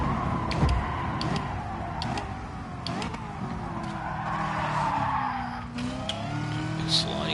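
Tires skid and slide on a car in Gran Turismo Sport, a steady engine drone with rising squeal streaks, faint talk in the background.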